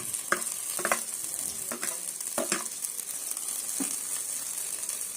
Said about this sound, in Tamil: இப்போ வதக்கி மிக்ஸ் பண்ண போகிறேன்